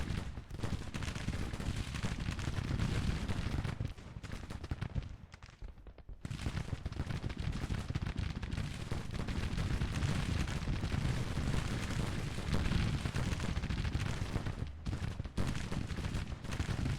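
A Civil War battle in the Grand Tactician strategy game roars with continuous massed musketry and booming cannon fire, a dense, loud wall of crackling volleys and rumbling blasts that briefly thins before resuming.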